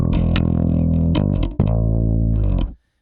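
Distorted bass notes through a Tech 21 DP3x pedal, played as a short loud phrase of sustained heavy tones with a brief break, then cut off into silence.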